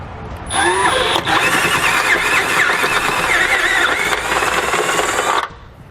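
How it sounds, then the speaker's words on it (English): A step bit drills to enlarge an access hole in the frame of a 2011 Nissan Versa, a loud continuous whirring grind with a screeching metallic edge that runs steadily for several seconds, then stops. "I'm going to use a step bit to enlarge that hole"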